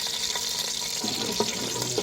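Tap water runs steadily into a pot or vessel for cooking tinde ki sabzi in a temporary kitchen setup, a continuous close splashing hiss with no talk over it.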